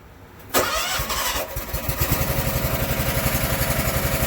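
A Snapper zero-turn mower's engine cranks and catches after a quiet moment, then settles into a steady, close, rhythmic idle chug that continues to the end.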